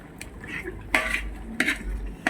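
A spoon stirs nuts into thick mango halwa in a metal pan, with a few distinct, fairly loud clinks and scrapes against the pan and a soft, muffled background between them.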